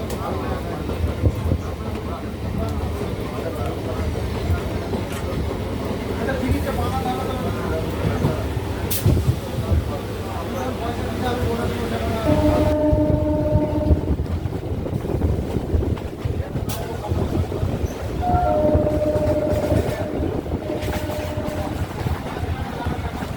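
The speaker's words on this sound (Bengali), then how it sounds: "আমাদের ট্রেন প্রবেশ করেছে বেলুর রেলওয়ে স্টেশন" A train pulls into Belur railway station in Howrah district with a continuous heavy rumble and rattle. Wind buffets the microphone, and brief squealing tones rise midway and again near the end.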